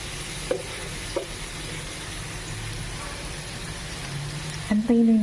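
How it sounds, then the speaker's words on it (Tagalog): Butter garlic shrimp sizzle and fry steadily in a pan, a constant close crackle with a few brief stirring clanks near the start and end. "Antayin lang natin na maluto ng konti yung hipon."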